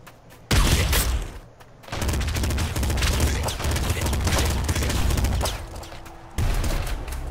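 Assault rifle fire in the video game Nuclear Throne, a dense, steady stream of rapid shots rattling almost without pause for several seconds, loud and close, with a brief lull early on.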